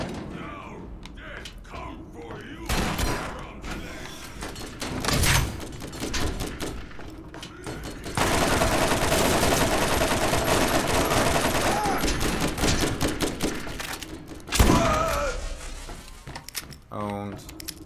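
Gunfire from non-shock weapons in the shooter Borderlands, with bursts of rapid automatic fire and mechanical clatter, plus a long sustained barrage in the middle, loud and close, with a voice talking over parts of it.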